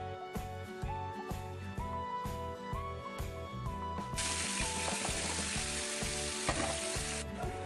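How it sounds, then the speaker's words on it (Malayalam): Chicken pieces fry in about three tablespoons of oil over a medium flame, giving a close, loud crackling sizzle. Rhythmic music plays underneath, and the spitting grows denser and brighter partway through. "ഇനി ഇതിലേക്ക് ചിക്കൻ്റെ പീസസ് ഇട്ടിട്ട് ഫ്രൈ ചെയ്തെടുക്കാം."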